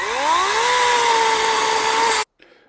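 Cordless chainsaw cutting into a tree, a loud, steady motor whine that rises in pitch early, holds under load for about two seconds, then cuts off abruptly, followed by a brief faint noise.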